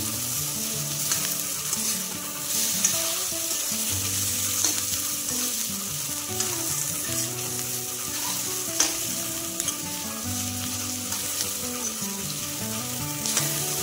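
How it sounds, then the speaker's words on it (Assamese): Meat frying in a pan gives a continuous loud sizzle with scattered crackles and occasional stirring scrapes throughout, with no talking. "মাংসটো এতিয়া অলপ সময় ফ্ৰাই কৰি লওঁ"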